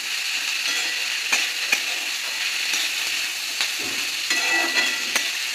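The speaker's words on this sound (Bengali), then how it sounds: "ক্যাপসিকাম দিয়েও একটু নাড়াচাড়া করে নেবো" Capsicum and other vegetables for restaurant-style mixed chow mein are stir-fried in a wok over a constant loud sizzle, with occasional sharp scrapes and clanks of a spatula and no speech.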